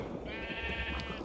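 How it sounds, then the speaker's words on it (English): Sheep bleating in the Minecraft video game, a single drawn-out game-style bleat heard fairly close over a steady low background hum, lasting about a second. "It's got quite a sheep and cow pen going here."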